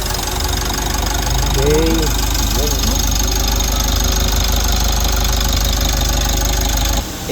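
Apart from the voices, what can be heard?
Mitsubishi L300 engine idling after turbo and EGR cleaning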